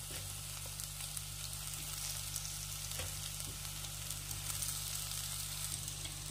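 Masala sizzles softly in a pan as it is sautéed for Bengali egg cutlets, a steady low crackle with a few faint scraping stirs, fairly quiet throughout.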